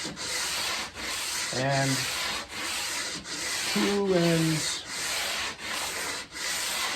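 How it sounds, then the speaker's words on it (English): Sustained, close abrasive sanding of a wooden guitar fretboard being worked to a radius, with even back-and-forth strokes and brief rhythmic dips, plus two short voiced sounds over the scraping. "So sand it down until, you get the center sanded."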